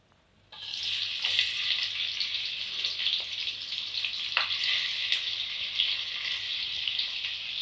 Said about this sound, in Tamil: நம்ம எடுத்து வச்ச வெங்காயத்தில் பாதி சேர்த்துப்போம்.